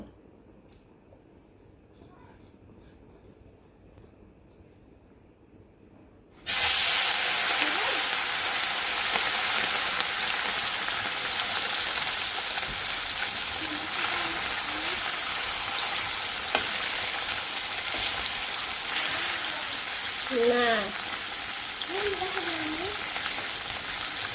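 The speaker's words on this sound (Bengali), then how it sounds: "তেল গরম হয়ে গেছে এখন মাছগুলো দিয়ে দিই তো প্রথমে হচ্ছে চরচুরি মাছ ওইটা আগে ভাজবো" Churchuri and small puti fish dropped into hot oil in a village kitchen, a loud steady sizzle bursting in after a quiet start and continuing densely throughout, with faint clinks of stirring.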